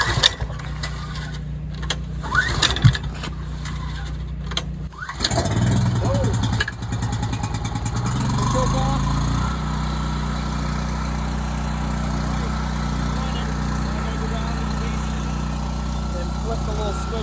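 A portable generator is pull-started: a few sharp rope yanks and clatters, then the engine catches and settles into a loud, steady running drone close by that continues to the end, with brief talk before it fires.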